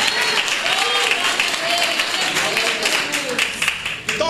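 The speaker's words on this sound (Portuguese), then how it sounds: "Palmas para Jesús." A church congregation claps steadily and densely in praise to Jesus, filling the room with sustained applause while voices carry faintly underneath.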